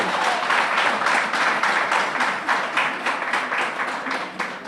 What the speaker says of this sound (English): another round of applause for AJ